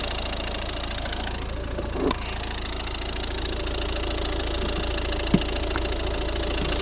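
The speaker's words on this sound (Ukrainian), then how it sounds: "Дуже-дуже хороша робота двигуна." A 2012 Volvo V50 1.6 D2 diesel engine idles steadily and low throughout, even and smooth, with a couple of brief clicks and no voices.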